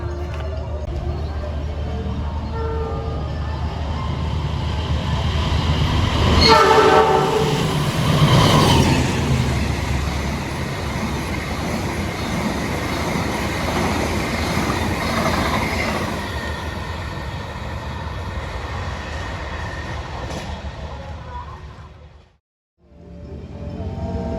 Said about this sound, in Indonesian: Lodaya tambahan itu bisa melaju 110 km per jam sama seperti Lodaya yang reguler